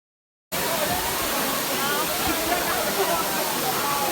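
Waterfall at Amedzofe in Ghana's Volta region roaring as a steady, dense broadband rush that begins abruptly after a brief silence and holds at an even, loud level close by.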